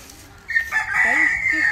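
Video game chicken crowing with a few clucks, a short bright call rising sharply and holding, close and clear over faint background, no talking.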